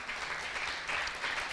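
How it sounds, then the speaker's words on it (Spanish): Church congregation applauding together at a Spanish-language worship service, a steady, fairly faint wash of clapping that holds evenly throughout with no talk over it. "Vamos a dar un fuerte aplauso al Señor."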